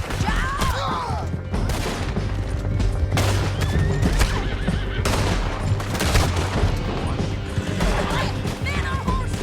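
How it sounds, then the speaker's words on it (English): In the game Red Dead Redemption 2, horses whinny and hooves pound amid a loud, chaotic battle din of gunfire and crashes, with shouting mixed in throughout. "Men on horses."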